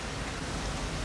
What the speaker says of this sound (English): wait for the rain to let up